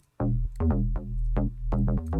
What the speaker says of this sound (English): This is simply just a wider bass sound that, coupled with my original bass sound